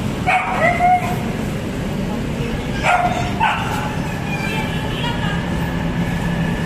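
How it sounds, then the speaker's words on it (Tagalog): Dogs bark a few times at a moderate distance near piled-up garbage, sharp separate yelps over steady low rumbling background noise. "May mga aso."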